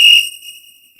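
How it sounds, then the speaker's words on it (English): A single sharp referee whistle blast at a PSAL girls basketball game, loud and shrill at first, then fading away within a second, heard alone. "Blow the whistle."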